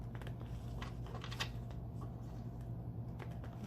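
Tarot cards being shuffled close by, a quiet, steady patter of riffling and flicking card edges over a low background hum, with no talking.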